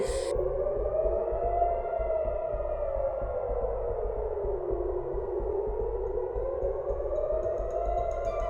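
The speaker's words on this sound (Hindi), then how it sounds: "तेल अवीव और आसपास के इलाकों में हवाई हमलों के सायरन बजने लगे थे।" A long, steady wailing air raid siren rises and falls slowly in pitch, loud and continuous over a low rumble, with no voices, sounding in Tel Aviv during a Houthi missile attack.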